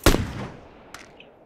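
Gunfire in the battle royale game PUBG Lite: one loud, sharp shot opening with a booming tail that fades, then a fainter distant crack about a second later, no talking.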